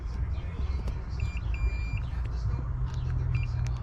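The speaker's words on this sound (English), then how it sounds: "You hear the beep." Short high-pitched electronic beeps from a multimeter continuity test sound a few times over a low background rumble, close by and fairly quiet.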